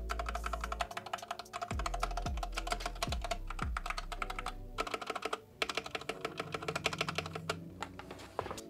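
Fast, steady typing on a factory-lubed XVX M61 mechanical keyboard resting on a mousepad, with dense close clacks, a few louder strokes and a low drum-like bass beat thumping underneath.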